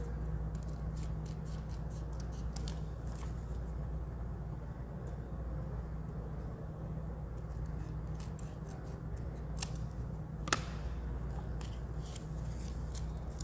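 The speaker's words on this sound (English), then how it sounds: "and then I'll just trim that" Card stock is trimmed for a pocket card craft project, a few faint, quick cutting snips and one sharp click over a steady low background hum, with no talking.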